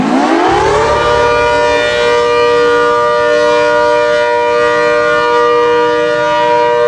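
An ACA Hurricane 130 civil defense siren winds up from a low growl to a loud, sustained multi-tone wail that holds steady, close and alone.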